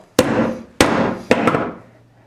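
Three sharp hammer-stapler thwacks while putting up insulation, each ringing briefly before the next, the last one with a quick double hit, close and loud.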